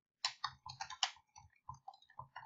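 Keys tapped in quick uneven bursts on a computer keyboard while a Google search is typed, close and fairly quiet with short pauses and no voices.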